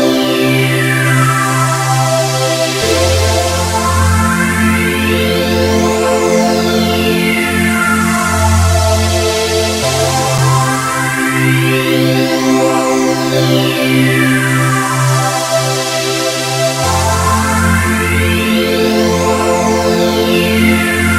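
Lush trance-style synth pad, sustained chords shifting every few seconds under a swelling, sweeping filter that rises and falls repeatedly across twenty seconds, with no talking.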